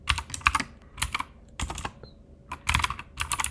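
Keys tapped in quick bursts on a computer keyboard while entering a storage name into a cloud data pipeline tool, close and crisp, with short pauses between clusters of keystrokes and no talking.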